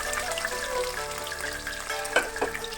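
Peppercorns, bay leaf and two kinds of capsicum frying in oil for fried rice, a steady soft sizzle with a few small pops and stirring clicks near the end.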